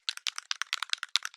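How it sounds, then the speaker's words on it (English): A textured spray sample used in lo-fi music production: a quick run of about a dozen hissy, bright bursts in an uneven rhythm, close and fairly soft, with no talking. "get this ESM spray texture that sounds like this"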